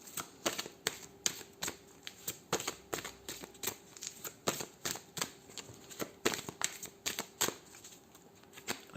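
A deck of oracle cards is shuffled close by in a steady run of crisp, rhythmic riffling slaps, repeating roughly every half second; no talking.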